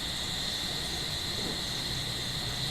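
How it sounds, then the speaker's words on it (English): Crickets chirp in a steady, continuous buzz in a tropical alley beside a hotel, a constant nighttime insect drone with faint low background noise and no talking. "all you hear is the crickets"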